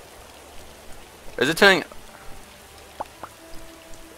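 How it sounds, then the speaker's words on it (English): Rain falls steadily in the video game Starbound as night sets in, a soft continuous hiss with a few faint pattering drops. A voice speaks briefly over it. "And it's raining."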